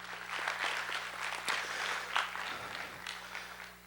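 Audience clapping at a middle school spring choir concert, a steady crowd applause that fills the room and fades gently toward the end, with no voices over it.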